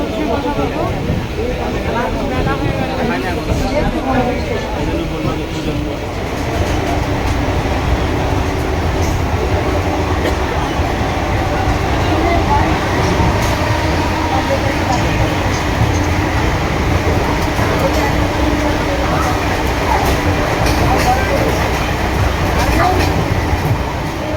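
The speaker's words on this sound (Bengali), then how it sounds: "এখন আমাদের ট্রেন ছেড়ে রয়েছে রানাঘাটে গিয়ে" A train runs on after departing, heading on from Ranaghat, with a continuous loud rumble and rolling track noise under people talking throughout.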